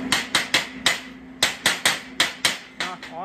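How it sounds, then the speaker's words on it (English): A chipping hammer knocks slag off a fresh stick weld on a metal workpiece: a dozen sharp metallic raps, close and loud, in quick uneven bursts with short ringing decays, and no talk. "And then if I take the chipping hammer,"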